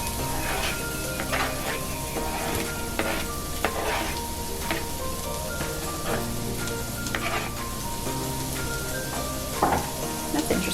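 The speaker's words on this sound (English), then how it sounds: "he fries the onion in some oil" Onion frying in oil in a pot, a steady close sizzle with stirring scrapes and clinks throughout, a low hum underneath and no talk.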